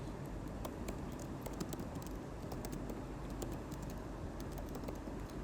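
Steady computer keyboard typing during an HTML coding lesson, a continuous run of soft, quick key clicks at close range with no speech.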